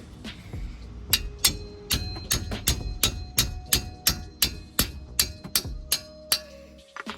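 Hammer blows on the front suspension of a 2011-2016 Scion tC, roughly a dozen sharp metallic strikes in a steady rhythm, close and loud, with a ringing clink on each hit.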